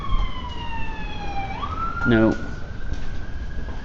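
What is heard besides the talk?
emergency vehicle sirens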